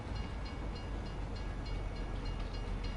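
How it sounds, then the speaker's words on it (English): A train in the Farming Simulator 22 video game rolls past with a steady, close rumble and rattle throughout, heard alone. "Oh, here comes the bloody train."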